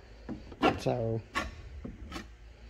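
Bondo body filler is spread over a fiberglass patch with a few short scraping and rasping strokes, close and fairly quiet, while someone briefly speaks.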